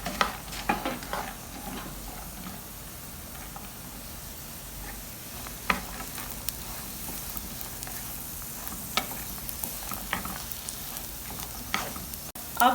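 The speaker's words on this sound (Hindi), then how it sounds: "अब हम इनके साथ रेजन्स को भी फ्राई कर लेते हैं," Raisins fry with softened carrots in a pan for Kabuli pulao, a steady low sizzle with scattered clicks and scrapes of stirring, close and fairly quiet, no talk.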